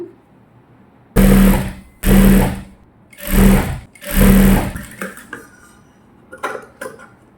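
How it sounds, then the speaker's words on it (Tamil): A sewing machine stitching gown fabric runs in four short loud bursts with brief pauses between them, followed by a few light clicks and handling sounds, close up. "போடுற ஒரு கால் இன்ச்சுக்கு தையல் போட்டுக்கிறேன்"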